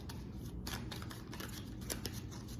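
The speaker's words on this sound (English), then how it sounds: "Hold on, I'm gonna shuffle again because that one flipped over." Tarot cards are shuffled by hand in quick riffling bursts, a crisp papery flutter repeating close up and fairly quiet, with no talking.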